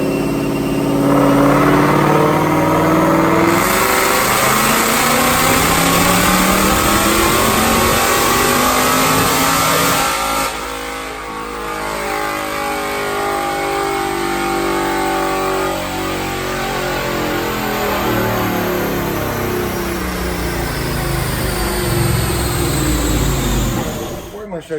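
A supercharged 2018 Roush Mustang with an automatic transmission roars through a full pull on a chassis dyno, loud and close, revving up through gears with shifts and a falling-then-climbing engine note before backing off.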